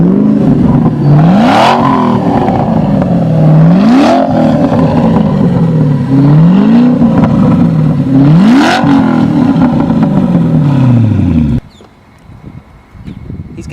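A Ford GT engine is revved hard three or four times in a row, each rise climbing to a loud roar before falling back. It ends abruptly at about twelve seconds, leaving quiet background noise.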